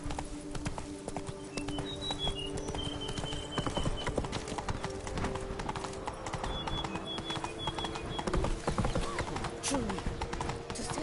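Roach the horse trots in Witcher 3 Blood and Wine, her hooves clip-clopping in a steady rhythm under game music and a voice talking.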